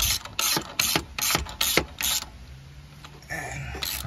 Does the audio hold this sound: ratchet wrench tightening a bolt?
yes